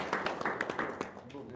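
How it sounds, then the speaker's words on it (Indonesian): A few people clap in an indoor gathering, quick uneven claps close by, mixed with talking voices, over about a second and a half. "Tepuk tangan dong"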